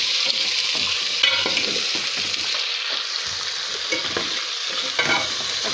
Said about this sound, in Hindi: मेरा अदरक और लहसुन पेस्ट फ्राई हो चुका है। अब मैं इसमें कर दूंगी चिकन ऐड।